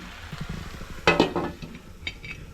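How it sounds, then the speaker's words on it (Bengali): Carrots and beans fry in a wok with a steady soft sizzle, broken by a sharp clink of a spatula against the pan and a few lighter stirring scrapes. "আচ্ছা আমরা কি তাহলে ওই কড়াইতে গাজর আর বিনসটা ভেজে নিই?"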